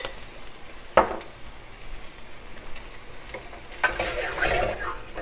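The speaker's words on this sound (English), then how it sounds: "Give that a stir. The white wine just kind of helps, there's a lot of good base on the wok" A sauce with white wine stirred in a wok over a soft steady sizzle, with a sharp clank near the start and a louder burst of frying toward the end.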